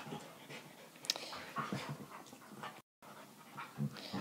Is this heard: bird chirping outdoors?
no